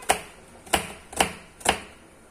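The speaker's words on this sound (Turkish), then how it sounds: "Şimdi şunu doğrayayım" Kitchen knife chopping food on a board, four crisp separate chops at an even pace, close and fairly quiet with no talk.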